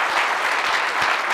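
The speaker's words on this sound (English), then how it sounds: "Give yourself a round of applause" Audience applause at a Colts football gathering after a home division win over the Titans, a dense steady clapping crowd filling the whole moment without a break.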